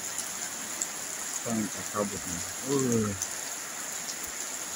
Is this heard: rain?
yes